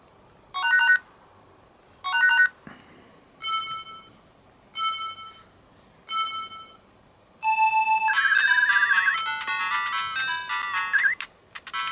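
Electronic beeping tones from Outrun on a Game Gear Micro handheld: five short chimed bursts at even intervals, then a continuous bright synthesized tune starts and plays on.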